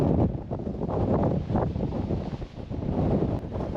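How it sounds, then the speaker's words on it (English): Strong gusting wind of over 40 mph buffets a tent while wild camping in the Welsh hills, a loud continuous roar with surging gusts and rumbling microphone buffeting throughout. "This wind was supposed to drop off this morning. If anything, it's getting worse."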